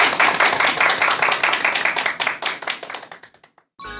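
A lecture audience claps to welcome a speaker, a brisk burst of individual hand claps that thins out and stops, followed by a sudden loud sound at the very end.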